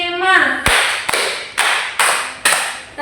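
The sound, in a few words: rhythmic hand clapping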